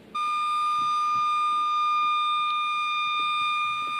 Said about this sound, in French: Il y avait un camion de pompiers qui était juste derrière chez nous. Puis la sirène du camion était bloquée.